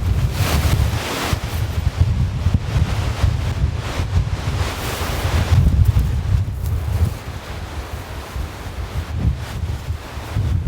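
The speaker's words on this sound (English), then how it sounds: "Some big gusts are coming through." Strong wind gusts buffet an exposed campsite during an extreme storm, a loud continuous roar with surging peaks and heavy low rumble from wind hitting the microphone, steady throughout with no talking.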